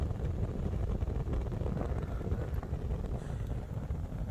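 A Swedish torch log fire burns with a steady, loud roar like a jet engine. The dense, even rush of flame noise continues unbroken throughout, with no talking.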